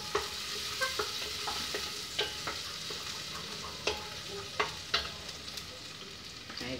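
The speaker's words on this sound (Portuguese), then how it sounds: "Eu coloco a cebola para dourar, para botar a carne" Onion browning in a pan for a creamy beef picadinho, a steady frying hiss with scattered sharp crackles and pops, close and moderately loud with no one talking.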